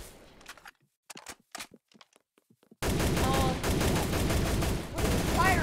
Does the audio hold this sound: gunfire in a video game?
yes